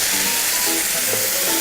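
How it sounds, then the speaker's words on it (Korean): Whole canned tomatoes dropped into a pan of vegetables being sautéed for ratatouille, a loud steady close sizzle and hiss with faint soft shifts underneath. "여기에 바로 홀토마토를 넣어주시는 거예요."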